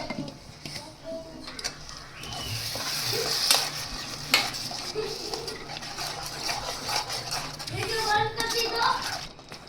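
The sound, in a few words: tomato gravy added to tempering in a pan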